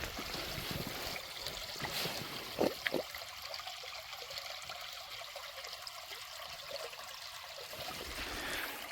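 Creek water pours over a built dam in a steady, soft trickling and rushing flow, with a couple of brief knocks partway through.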